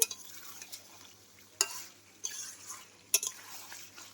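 Mutton being sautéed in a pan, with a soft frying hiss under sharp, spaced clinks and scrapes of a spoon stirring against the metal, four distinct strokes in a quiet room.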